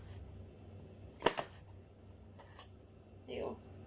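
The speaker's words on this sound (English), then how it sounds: "Now again, just chop it in half. Chop it in half again." A knife chops butternut squash on a board for roasted squash soup: two sharp, close cuts in quick succession, then a softer cut and a final duller thunk, all fairly quiet with no talking.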